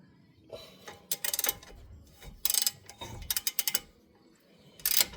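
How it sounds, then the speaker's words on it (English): A ratchet loosening a brake caliper bolt on a car, giving short bursts of rapid clicking close by, separated by pauses and a few duller knocks. "Take out the caliper bolt."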